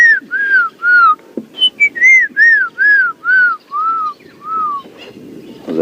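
A person whistles an imitation of a black-crowned tchagra's call, with a loud, close series of about a dozen clear, slurred whistled notes in a rhythmic descending phrase, then a few softer trailing notes.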